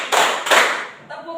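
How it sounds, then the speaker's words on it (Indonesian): Hands clap in a counted classroom clapping game, two sharp, close claps in quick succession, followed by a voice speaking. "Tepuk 1. Tepuk 1. Tepuk 2. Tepuk 3. Tepuk 4."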